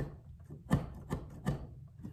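A 10-inch Victorinox chef's knife rock-chops on a board, giving three fairly firm, evenly spaced knocks as the heel comes down, with quieter taps between them.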